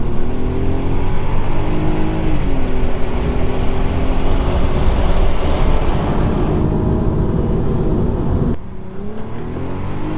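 A German car with a 3.2 V6 drives along on a road trip, the engine droning loudly and rising and falling in pitch with revs, heard close from on board without talking, before a sudden drop in level near the end.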